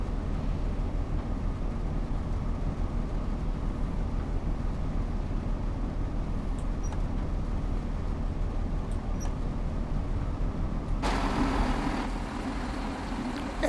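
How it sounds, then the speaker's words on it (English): A parked bus in Train Sim World 2 on the Isle of Wight idles with a steady, low engine rumble that runs unbroken, joined near the end by a brighter rushing noise. "Even hear the bus ticking over it, parked up there, look."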